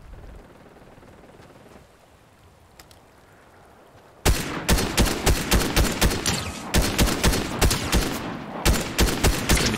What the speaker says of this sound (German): Wo kam der Schuss her?